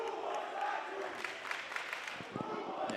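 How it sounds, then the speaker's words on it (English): A lively high school basketball crowd in a gym raises its voices in a steady roar of cheering, with an announcer talking over it throughout. "It's been a lively crowd as always."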